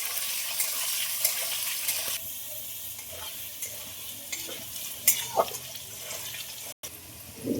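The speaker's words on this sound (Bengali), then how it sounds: "আলুগুলো ভাজার জন্য খুব ভালোভাবে নেড়ে দেবো" Potatoes frying in oil seasoned with bay leaf, dried chilli, five-spice and asafoetida, stirred steadily in a pan, giving a continuous close sizzle with repeated scraping and stirring strokes and a few brief clanks.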